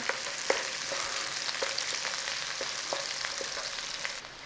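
Food sizzles and fries in a pan with a continuous crackling hiss, while a utensil stirs and turns it, making soft scraping clicks at a loose, irregular rhythm.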